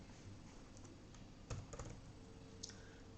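Keys clicking on a computer keyboard as someone types code into a programming editor, quiet close taps in short irregular bursts with a few louder strokes.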